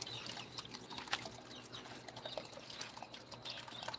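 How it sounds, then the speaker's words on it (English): Water trickles steadily in a backyard frog pond, a faint, continuous hiss-like flow with no voices. "right now it just sounds like a lot of trickling water"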